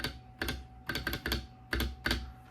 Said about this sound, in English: That spacebar sounds pretty good.